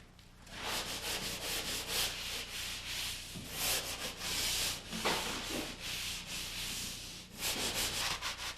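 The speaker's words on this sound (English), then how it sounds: "This hand sander uses the same screens I use with my sanding pole." Hand sander with a sanding screen working over drywall, a close, steady back-and-forth rasping in repeated strokes with brief pauses, with no voices.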